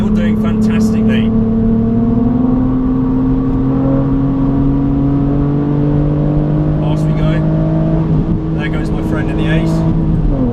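A BMW Z4 accelerating hard on a race track during a track day, the engine's steady tonal drone rising in pitch over several seconds before easing off near the end, with someone talking over the onboard noise.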